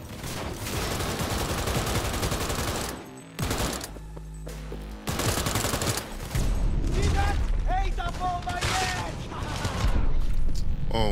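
Cyberpunk 2077 combat on PS5 with a grenade blast and dense gunfire, a sustained loud barrage of shots and booms under excited talk from a player.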